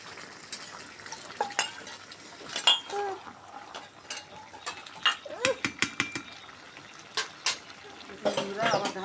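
Beef and taro curry stirred in a pot, with scattered scraping and clinking of a spoon against metal and a soft sizzle, close and moderately loud, irregular bursts of activity.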